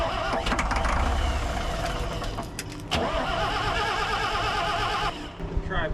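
An old rare cabover truck with freshly bled injectors cranks and sputters as it tries to start, loud ragged churning near the mic that catches briefly and then fades out, with people talking over it.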